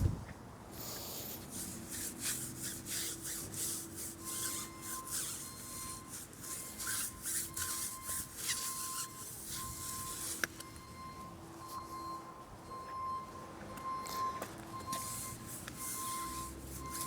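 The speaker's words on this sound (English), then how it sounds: "just going to rub this brush on another wheel just to dry it a bit" Brush bristles rub and scrub wheel cleaner into a car wheel, giving a steady close-up rasping swish that runs continuously with small rhythmic strokes and no talking.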